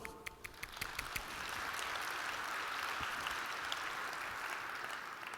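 Distant, faint applause from an audience at a Vienna cybersecurity conference, with a few separate claps at first that merge into a soft, even wash of clapping.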